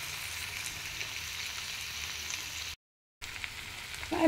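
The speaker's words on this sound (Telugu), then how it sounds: "ఇవన్నీ మిక్స్ చేసేసి కాసేపు ఫ్రై అవనిద్దాం" Chicken fry with spice powder mixed in, frying in a pan: a steady, soft sizzle and crackle that cuts out briefly near the end, then resumes, with no talking.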